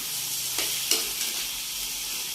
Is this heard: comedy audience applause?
no